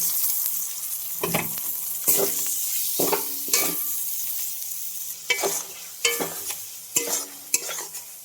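Prawns stirred in a hot pan with salt, turmeric, coriander, cumin and chili powder: a steady close sizzle broken by repeated scraping strokes of a spatula, about one every second, with no talk.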